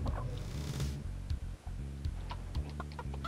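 In the Heretic video game, a player transformed into a chicken clucks amid game sound effects, short fowl-like calls over a steady low mechanical hum and ticking.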